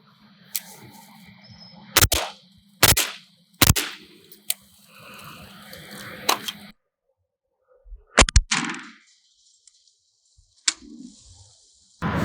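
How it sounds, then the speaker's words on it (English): An AR-15 carbine fitted with a Daniel Defense spring and an H buffer fires several sharp, loud single shots outdoors, spaced irregularly with quiet pauses between them. "All right, we're gonna fire a few rounds here."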